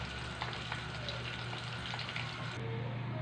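Eggplant and hotdog fry in a pan with a continuous, close hiss and crackle, steady throughout at moderate loudness.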